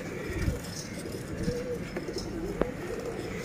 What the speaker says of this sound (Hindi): ये देखिए, ये वाले में खाली बेदाग कबूतर है।